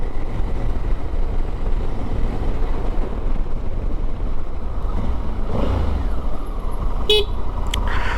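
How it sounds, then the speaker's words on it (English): A Honda Africa Twin adventure motorcycle's horn gives a short, quick double toot near the end, riding over steady road and wind rumble. "found the horn again"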